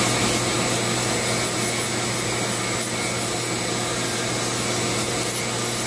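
A Dremel rotary tool spinning at about 10,000 RPM sands carved cedar wood on a friendship staff, a steady, close whirring grind with rubbing texture that holds without a break.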